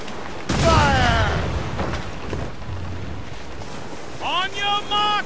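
Ship cannons firing in Assassin's Creed Rogue during a naval battle, a loud booming blast early on, then rumbling wind and sea noise, with shouted voices joining near the end.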